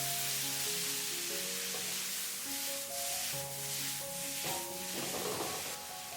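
Dried tofu and meat stir-fry in a pan after soy sauce water is added, giving a steady, moderate sizzle with stirring under a faint melodic background.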